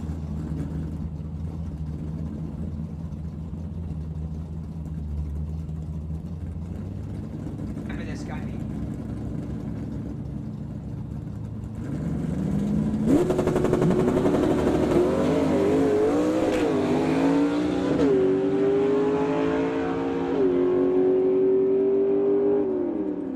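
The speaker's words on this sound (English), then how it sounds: "Pretty little 64 Comet taking on that Oldsmobile Cutlass." Two drag cars, a 1964 Comet and an Oldsmobile Cutlass, sit at a steady idle under a track announcer's talk, then launch into loud revving runs with rising, shifting engine notes that fade as they pull away.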